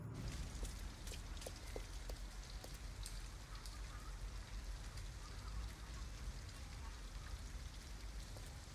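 Steady rain in the video game Detroit: Become Human, a dense hiss of drops with scattered sharper patters on surfaces, continuous and even throughout with no voices.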